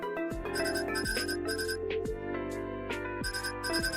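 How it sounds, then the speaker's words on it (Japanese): A phone alarm rings in the video game Coffee Talk Tokyo, a repeating electronic chime pattern sounding in regular bursts, loud and clear with no talking. "電話ではなくアラームなので"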